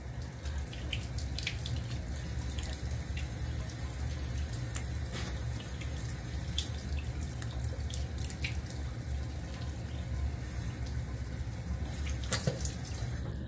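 Running tap water splashes steadily into a sink while someone shaves, a continuous close rush with small irregular splashes and drips, with no talking.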